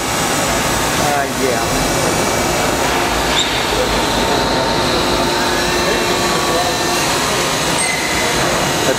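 A Daewoo DMV 3016 vertical machining center spindle runs at about 3,000 rpm, giving a steady, loud, even mechanical whir that fills the space, with people talking briefly over it.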